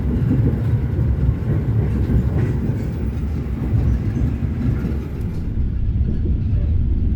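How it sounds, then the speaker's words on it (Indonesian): The Whoosh high-speed train departs Padalarang station with a loud, steady rail rumble and roar that holds evenly for several seconds, with no talking. "Kereta cepat Wus yang baru diberangkatkan dari stasiun Padalarang."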